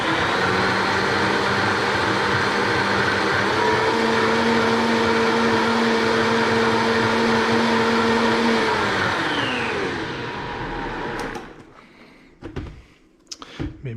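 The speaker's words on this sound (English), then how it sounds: "Now we can really puree this." A blender purees green pozole verde sauce with a loud, steady, close whirring drone for about eleven seconds, then winds down and stops, leaving a few soft knocks.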